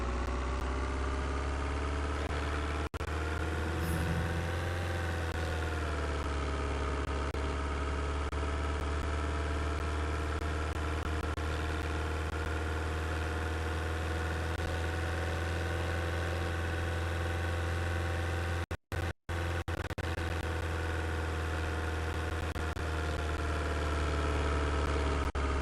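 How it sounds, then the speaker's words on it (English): A vehicle engine in a survival video game running as a steady, loud, droning hum with a constant low rumble, unbroken apart from two brief dropouts near the end. "This engine is a bit much, huh?"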